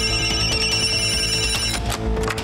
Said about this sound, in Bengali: আরে আরে, কোন ফোনটা যে বাজছে?